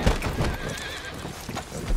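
A horse in the video game Red Dead Redemption 2 whinnies over steady galloping hoofbeats, the neigh rising and wavering in the middle while the hooves thud loudly throughout.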